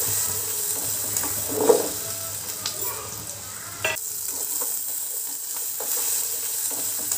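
Drumstick pieces and long-cut brinjal sautéing with shallots in hot oil for sambar, a steady close sizzle with occasional stirring scrapes and clinks, no talk.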